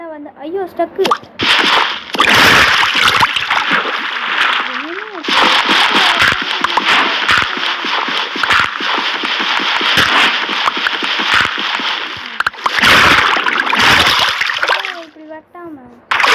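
Continuous loud water splashing and sloshing as a player gets stuck in water in the video game Minecraft, dense and sustained under excited talking throughout.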